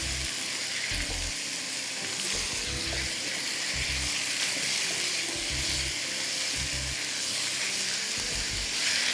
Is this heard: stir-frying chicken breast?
yes